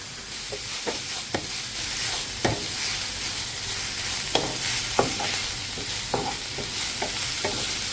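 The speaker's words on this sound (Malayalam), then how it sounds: "ഒപ്പം കഴുകി മാറ്റി വെച്ചിരിക്കുന്ന മുരിങ്ങയിലും കൂടി ഇട്ട് ഇളക്കി കൊടുക്കാം" Drumstick leaves and coconut stirred in a hot pan for thoran, as a steady, hissing sizzle runs under sharp, intermittent spatula scrapes and knocks, close-up and without voices.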